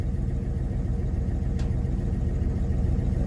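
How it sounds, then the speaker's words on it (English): A carbureted engine in a 1981 Chevy C10 square-body pickup idles with a steady, close, low rumble, running on old gas, with one brief faint tick midway and no talk. "the more I leave it running, the easier it is to idle, getting that bad gas out"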